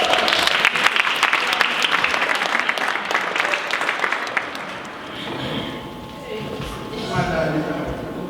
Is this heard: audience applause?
yes